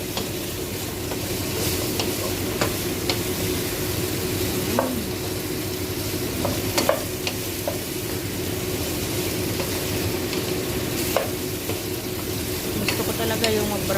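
Meat fries and browns in a hot pan, a steady dense sizzle with intermittent scraping clicks of stirring, close up and continuous throughout.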